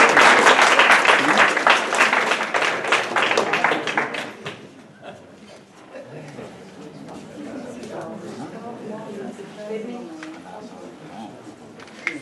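Applause from an audience at a ceremony for Friulian language and culture course certificates, loud clapping that fades out after about four seconds into quieter room murmur with a few voices talking.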